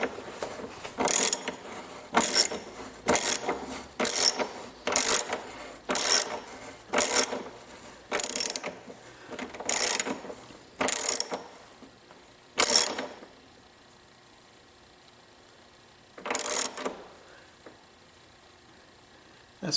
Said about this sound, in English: So I am going to tighten that very carefully.